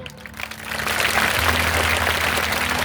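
A church congregation claps loudly and steadily, the applause swelling from a softer start into a dense, sustained burst over a low held tone.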